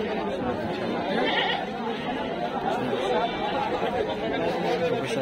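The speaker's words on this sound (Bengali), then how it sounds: "ছাগল আর ছাগল, বড় ছাগল, ছোট ছাগল, বড় ছাগল।" Goats bleat now and then amid a busy crowd of chatter at a goat market in Jhikargachha, Jessore, Bangladesh, the animal calls mixed into constant background talk.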